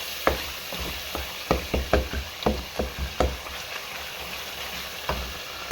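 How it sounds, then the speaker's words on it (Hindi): Spices roasting in a hot pan for aloo gobi, a potato and cauliflower curry: a steady sizzle broken by a run of sharp, rhythmic spatula scrapes and taps against the pan, close by, with no one talking. "मसाले को अच्छी तरह से भून लेंगे हम।"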